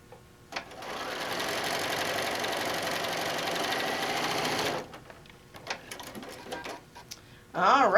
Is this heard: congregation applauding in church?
no